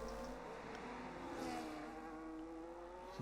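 Race cars at COTA in a racing video game, engines whining with rising and shifting pitch as one car closes on another, a steady close engine roar without talk.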